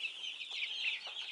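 A broiler chick gives a couple of short, high chirping clucks up close, soft and brief in a quiet setting.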